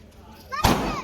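A Diwali firecracker set on a stone bursts with one sharp, loud bang, then a crackling sizzle trails off, with voices nearby.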